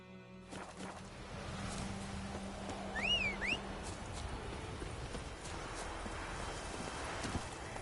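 Roach the horse clip-clopping along in The Witcher 3, a steady rhythm of hoofbeats over a continuous outdoor ambience, with a brief whistle-like chirp partway through.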